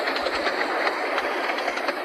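Model train with a brake van rolling along track, a steady rattling clickety-clack running continuously and fairly close, with no voices.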